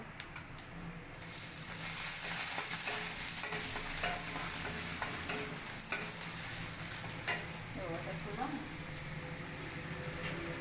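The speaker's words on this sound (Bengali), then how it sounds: "সরষের তেল আর রসুনটা ভেজে নেব" Garlic fries in mustard oil in a kadai, sizzling steadily up close with occasional clicks and scrapes of stirring throughout.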